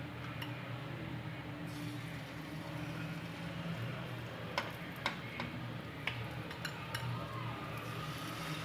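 Egg batter poured into hot oil in a pan for an egg chicken burger gives a steady, close sizzle, broken by a few sharp spattering ticks, with no talking.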